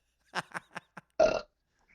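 A person burps loudly for about a quarter second after a few short vocal bursts, close and clear against quiet.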